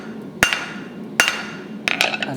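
Three sharp, ringing hammer blows strike hot metal on an anvil while a blacksmith shapes a decorative leaf, spaced about a second apart, close and loud.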